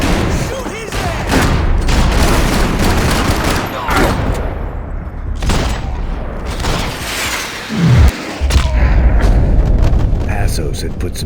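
Gunfire in the video game Max Payne 3, dense loud bursts of rapid shots and booming blasts layered throughout, with voices shouting over the fighting.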